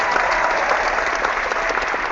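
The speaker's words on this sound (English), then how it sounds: "I will give Rue a round of applause" Steady round of applause from a group of people, continuous dense clapping at even loudness throughout, with no voices over it.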